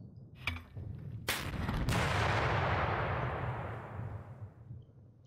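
Tank gunfire in the wargame Panzer Battles North Africa 1941, aimed at light tankettes: a few sharp cracks followed by a long, rumbling blast that slowly fades, loud and close with no talking.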